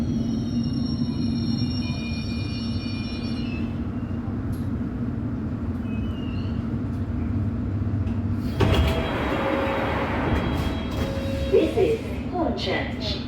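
London Underground District Line train arriving at Hornchurch, heard from inside: steady low running rumble that shifts to brake and door noises with sharp clunks near the end, with an onboard announcement voice early on.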